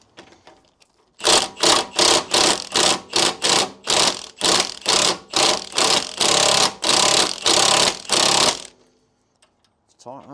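Wrench or ratchet working a tight suspension arm bolt on a BMW 1 Series, a close series of about fifteen loud rhythmic clicking bursts in steady succession, then stopping.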